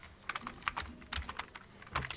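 Quiet typing on a computer keyboard, a quick, irregular patter of soft key clicks heard close up with no voices.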